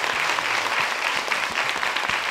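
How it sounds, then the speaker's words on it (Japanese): Big, dense applause sees off an architect after a lecture, a continuous wash of many hands clapping at steady loudness. "皆様大きな拍手でお見送りください。"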